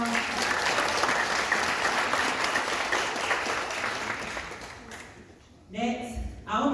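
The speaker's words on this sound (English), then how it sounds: "Can we just give her a round of applause?" An audience at a Manchester, Georgia community gathering gives a round of applause, with dense clapping for several seconds before it tapers off and a voice starts speaking.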